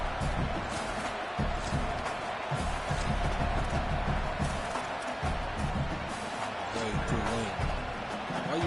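Stadium crowd roaring throughout a College Football 27 video game, a dense continuous wall of noise with commentators talking over it.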